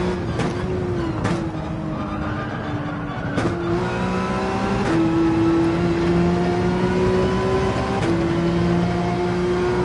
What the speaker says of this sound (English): Let's rev out 4th and 5th in the Porsche 911.